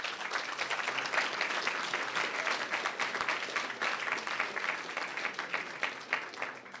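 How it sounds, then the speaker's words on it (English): A demo day audience applauds six entrepreneur teams with sustained, even clapping that fills the room from start to finish at a moderate level. "please give a final round of applause for all 6 teams"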